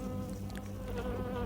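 A fly buzzes in a martial-arts comedy film scene, a steady, moderately faint drone that runs the whole moment over a low background.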